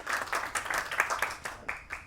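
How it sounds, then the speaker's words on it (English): An audience at an event for a Grammy-winning composer's national anthem release gives a short round of applause, with clustered hand claps that rise and fall in quick bursts over about two seconds. "Big round of applause for Neeraj."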